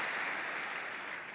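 Audience clapping for Queens during an interview with a New York congresswoman, a brief steady burst of dense applause filling the room without voices.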